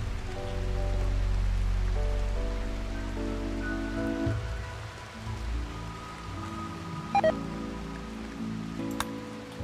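Steady rain falling in the Rimworld video game, a dense continuous hiss of drops on surfaces heard alone, with low tonal game sounds underneath and a couple of brief clicks near the end.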